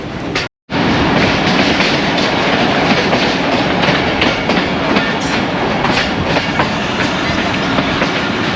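The restored Dhamaka Express rolling along, heard from inside the decorated locomotive cab: a loud, continuous rumble with rhythmic clickety-clack of wheels over rail joints, briefly cut out near the start.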